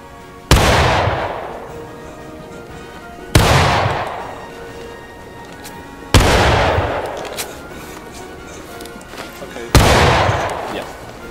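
Gunfire on command in the War of Rights game, with four loud single shots spaced a few seconds apart, each a sharp blast trailing off into a long echoing decay.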